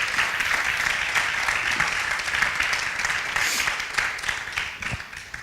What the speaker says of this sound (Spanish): Recibamos la palabra con un fuerte aplauso.